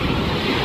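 A big sea wave surges and crashes onto a beach, a loud, close, broadband wash of water with wind buffeting the microphone, lasting under a second.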